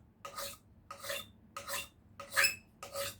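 Cow horn scraped with a hand scraper, five evenly spaced dry rasping strokes, each about half a second long, close and clear with no talking.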